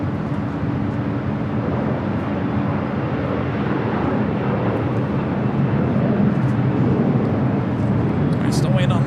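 Air China Boeing 777-300ER, twelve years old, at LAX heading for Beijing, giving a steady broad jet rumble throughout, with a voice talking over it.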